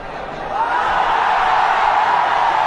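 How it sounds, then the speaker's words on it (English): A small crowd cheering at a cricket match between India and Sri Lanka at the 2012 Asia Cup, a steady broad roar of voices that swells slightly and holds, fairly distant. "Big cheer from the small crowd"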